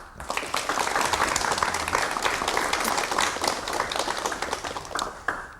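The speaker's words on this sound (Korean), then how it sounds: "여러분 42년 만에 귀국하신 장 박사를 박수로 맞이해 주시면 대단히 고맙겠습니다" A 1990 KBS television studio audience applauds to welcome a Soviet-based scientist home after 42 years, a full, sustained round of clapping that swells quickly and carries on without speech.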